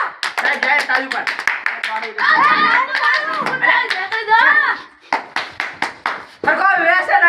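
Children clap their hands in a classroom comedy scene, with quick rhythmic bursts of claps alternating with sustained patches, mixed with children's chanting voices.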